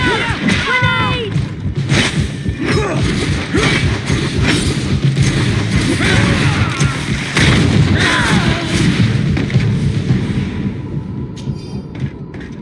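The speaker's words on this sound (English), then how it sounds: "Watch out! Grenade!" A grenade blast erupts amid a loud battle in the fantasy role-playing game GreedFall, with thumping impacts and dense combat noise under shouting voices.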